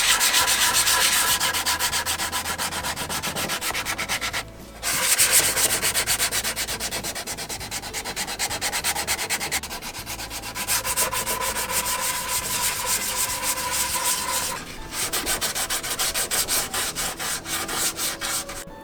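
Continuous abrasive sanding on wooden stairs aboard a sailboat, a steady loud rasping drone with a brief pause near the middle, close by and without voices.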